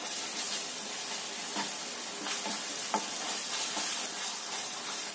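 Steady sizzling from a frying pan with a few soft scraping strokes as food is stirred, close and continuous, no talking.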